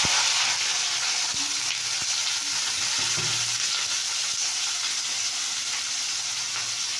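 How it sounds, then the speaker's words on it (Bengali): Potato pieces dropped into hot oil give a dense, continuous hissing sizzle, with a few utensil taps early on and no voices. "এবার আলু কটা আমি ছেড়ে দিই।"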